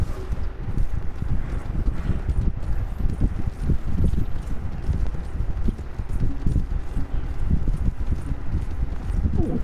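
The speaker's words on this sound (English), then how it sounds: "I hear the horse." Horse hooves clip-clopping in Red Dead Online, a steady close walking rhythm of hoofbeats on the ground, continuing throughout with no talk over it.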